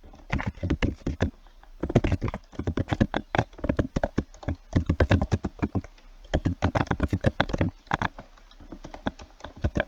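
Close, quick typing on a computer keyboard while entering Python code, rapid clusters of crisp key taps in bursts separated by brief pauses, with no one speaking.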